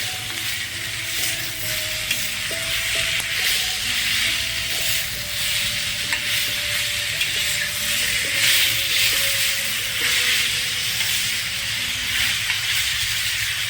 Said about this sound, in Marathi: आता आपण त्याच्यात टाकणार आहे टोमॅटो